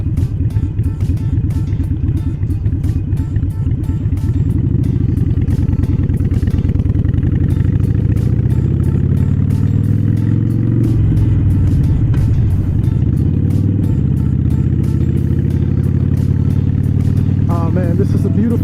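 A motorcycle rides steadily along a quiet warehouse-district road, its engine rumbling loud and continuous throughout with wind noise over it and no clear talk.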